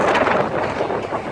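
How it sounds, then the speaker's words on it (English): Steady, loud wind buffeting the microphone in San Francisco, a continuous broadband roar with gusty fluctuations and no pauses. "Oh my god, so windy."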